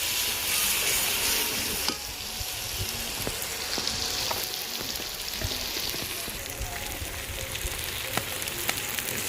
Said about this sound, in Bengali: এই আমি পরিমাণ মতন আদা রসুন দিচ্ছি, আদা রসুন দেওয়ার পরে এই নাড়াচাড়াকে মিশিয়ে নিই।